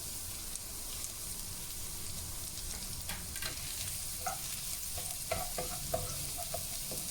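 Garlic fries in hot oil, sizzling steadily, with occasional light clinks and stirring sounds over the constant frying hiss.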